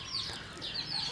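Soft clucking and high peeping from a native country hen with her chicks while they forage near feed and water, a few brief chirps spread across a quiet outdoor background.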